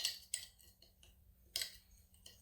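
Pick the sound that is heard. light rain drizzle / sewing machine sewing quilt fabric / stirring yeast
stirring yeast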